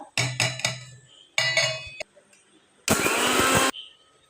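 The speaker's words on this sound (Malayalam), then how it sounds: "ഇനി നമ്മളിതൊരു ജാറിലേക്ക് ഇട്ടിട്ട് ഒന്ന് ക്രഷ് ചെയ്തെടുക്കാം" Mixer grinder jar crushing roasted mustard seeds and fenugreek, two short rattling pulses of seeds rattling inside followed by a loud, steady grinding whir lasting under a second, close and alone.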